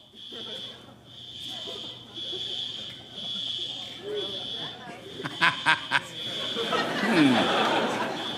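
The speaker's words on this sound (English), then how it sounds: "It's probably some kind of smoke alarm, fire alarm." A fire alarm sounds in a television studio during a late-night comedy monologue: a shrill, steady high-pitched tone that runs through the whole stretch, under someone talking and audience laughter and chatter.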